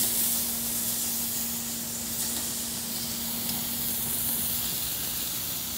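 Tri-tip steak sizzles on the hot, smoking side burner of a Napoleon Phantom gas grill after a spray of cooking oil, a steady close hiss with no talk.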